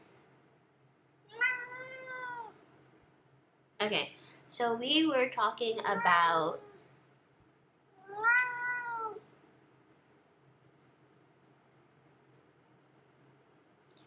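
A cat meows twice in the room, separated by a few seconds, with a person talking between the meows over a quiet background hum.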